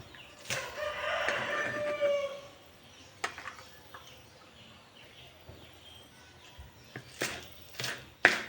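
Backyard chickens cluck and a rooster crows while being fed, the crow loud and stretched near the start, followed by scattered clucks and sharp pecking knocks at moderate distance.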